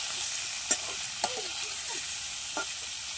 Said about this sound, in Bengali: এই যে তেলটা গরম হয়ে গেছে, এবার মাছগুলো আমি দিয়ে দেবো